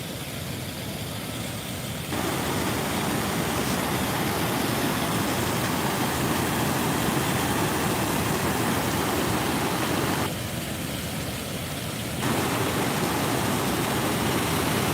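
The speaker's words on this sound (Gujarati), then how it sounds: "પાણીનો પ્રવાહ ખૂબ જ અત્યારે વધી રહ્યો છે" A loud, continuous roar of rushing river water flowing over a bridge after unseasonal rain, broad and unbroken, with brief shifts in tone but no pauses throughout.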